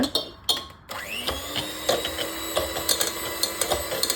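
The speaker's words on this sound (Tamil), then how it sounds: "சேர்த்துட்டு திரும்ப ஒரு தடவை பீட் பண்ணிக்கோங்க." An electric hand mixer whirs steadily as it beats eggs with a splash of vanilla essence for a plum cake batter, its motor whine rising at the start and holding even, with faint clattering against the bowl.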